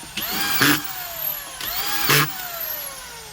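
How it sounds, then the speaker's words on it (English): Auto-feeding screwdriver driving screws while installing underpinning beneath a deck: two short bursts, each with a whining motor spinning up and a sharp clatter as the screw seats, close and loud. "you just have the auto feeding screwdriver, which is super handy"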